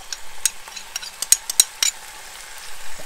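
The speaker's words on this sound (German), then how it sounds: "Auch alles mal ganz kurz ein bisschen anbraten." Leek, garlic and chili fry and get stirred in a Dutch oven, giving a soft sizzle broken by sharp clicks and scrapes of a utensil against the pot.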